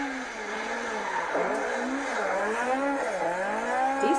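Small rally car sliding and skidding through a very tight stage, engine revving up and down with squealing, gliding tire tones, heard close and continuous without talk.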